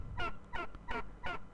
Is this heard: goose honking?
yes